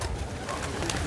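Pigeons cooing in a loft, soft repeated throaty coos close by over a constant low background, with no talking.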